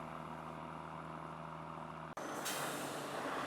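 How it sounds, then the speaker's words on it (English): A lorry carrying freshly harvested potatoes from the field rumbles in with a steady low engine drone, followed by a sudden sharp hiss of released air brakes, close and prominent. "Arriving, this lorry is carrying potatoes that have come straight from the field."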